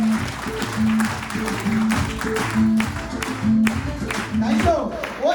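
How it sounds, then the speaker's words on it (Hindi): An audience claps in a dense, sustained burst of applause lasting several seconds, with a voice speaking over it. "जोरदार जबरदस्त तालियां होना चाहिए।"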